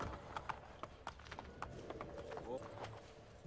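Rapid rhythmic horse hoofbeats in Assassin's Creed Brotherhood clip-clop along steadily, quiet and a little distant, with a voice talking over them.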